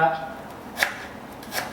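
Two dull pounding strikes about a second apart, a pestle hitting herbs in a mortar, close and moderately loud.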